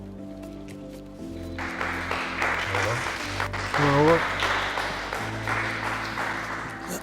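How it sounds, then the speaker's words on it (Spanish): Applause from a studio audience welcoming guest Hugo Álvarez, youth coach of Club Deportes La Serena, onto an interview program: a sustained round of clapping over background music, with someone speaking briefly in the middle. "Le damos la bienvenida y un caluroso aplauso para Hugo Álvarez."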